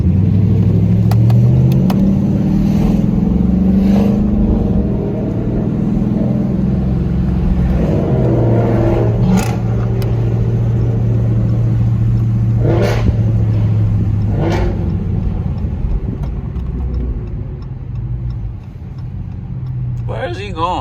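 A Dodge Charger RT rumbles and revs on a late night city drive, with a low engine drone and rises under ongoing talk, plus a few sharp ticks.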